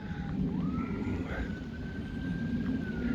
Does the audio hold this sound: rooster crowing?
no